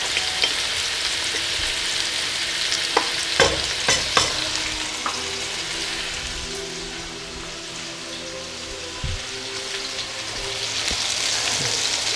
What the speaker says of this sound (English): I'm going to add the meat to the onion and let the meat cook.